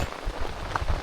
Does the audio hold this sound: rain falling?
yes